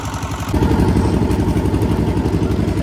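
A boat engine at Sabdi, Bangladesh, chugs close by with a steady, rumbling, clattering drone that grows louder after a brief quieter moment.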